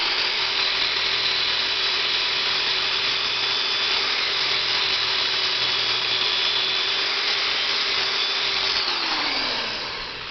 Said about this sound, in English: I'll ream this one out a little.